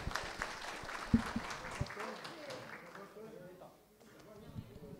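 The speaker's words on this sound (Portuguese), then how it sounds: "a salva de palmas para a gente fechar é para a comunidade de Santo Antão" Applause for the community at a public meeting in Santo Antão district, claps heard early then fading out, with voices talking over and after it.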